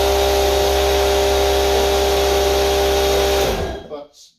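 A portable air compressor runs with a loud, steady mechanical hum, then cuts off abruptly and winds down to silence within about a second.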